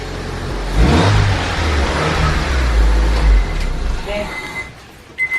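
A car engine revs up loudly and close, its exhaust roaring and then settling back. A voice speaks briefly toward the end.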